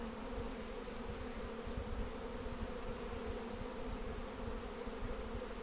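Honeybees buzz continuously at an apiary hive during the honey flow, a dense steady droning hum from many bees nearby with a slightly fluttering texture, heard alone without any talking.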